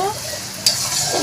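Onions frying in hot oil are stirred in a pan for chicken pilaf, giving a steady close sizzle with scraping stirs and a sharper clatter partway through.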